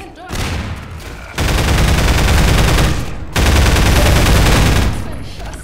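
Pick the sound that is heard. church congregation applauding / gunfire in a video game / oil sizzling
gunfire in a video game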